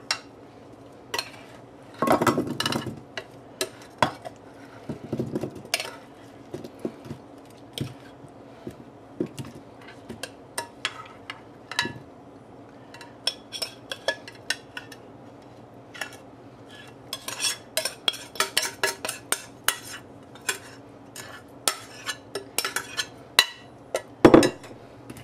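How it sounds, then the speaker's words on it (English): Turkey-feast side dish prep in a kitchen, with coated food tipped into a casserole dish amid scattered clinks and clatters of utensils against dishes, irregular taps spread across the stretch, fairly close and without talk. "And you dump that into a casserole."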